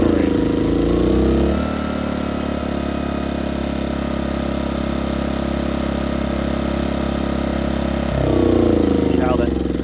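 A Coleman Powermate PM2000 portable generator runs close by with a steady, humming engine drone, its pitch shifting briefly as the engine speed changes near the start and end.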